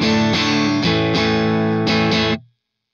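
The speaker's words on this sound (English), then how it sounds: "This amp here is a really great, sort of clean sound on the verge of breakup" Electric guitar through the Waves GTR edgy amp, a clean tone on the verge of breakup, strumming a rhythmic sequence of full chords with a slight bite, loud and alone, then stopping abruptly.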